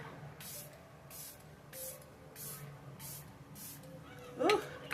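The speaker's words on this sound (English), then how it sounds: "I'm going to use the rest of my little Hard Candy Look On Lock spray" Hard Candy Look On Lock setting spray is pumped in six quick, hissing bursts at a steady rhythm, close and fairly soft. A brief clatter follows at the end.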